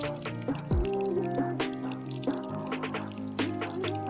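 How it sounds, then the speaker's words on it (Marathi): Drip irrigation lines water an onion crop in a field, with a steady patter of droplets and small splashes over a constant background hum and no talk. "पूर्ण वावसाठी पाणी खूप छान प्रकारे मस्त ठिबकद्वारे कांद्यांना पाणी भरलं जात आहे."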